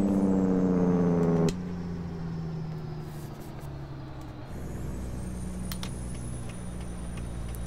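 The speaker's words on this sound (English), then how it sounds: "Bit of jake brake. Sounds mean, hey?" Jake brake on a truck in American Truck Simulator: a loud, low, rapid-fire engine rumble for about a second and a half, then it drops to a steadier engine drone with road noise.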